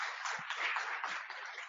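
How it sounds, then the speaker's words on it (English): Conference audience applauding a speaker introduced to talk about post-quantum cryptography at a crypto meetup; dense, steady clapping fills the whole short stretch, close and moderately loud, with no voices over it. "everyone give a nice round of applause for Deirdre"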